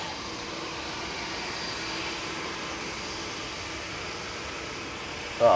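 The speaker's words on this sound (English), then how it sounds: "EasyJet coming on in front of us." An easyJet airliner landing at Manchester Airport during Storm Floris, a steady, even jet drone mixed with broadband wind noise, moderately loud, ending with a brief sharp bump.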